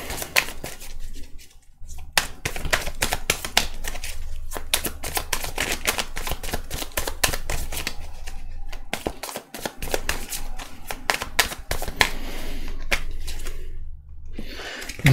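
Tarot cards shuffled and drawn during a reading: a rapid, steady stream of crisp riffling clicks and slaps up close, with a brief pause near the end.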